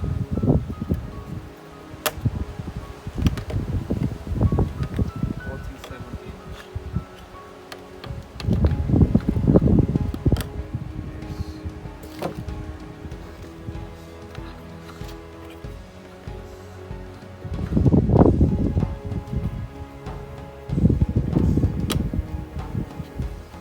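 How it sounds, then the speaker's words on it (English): Gusty wind blowing through a back garden, tossing loose things to the ground, comes in several loud rushing surges with rustling and clattering between calmer spells. "the wind is actually throwing everything apart to the floor."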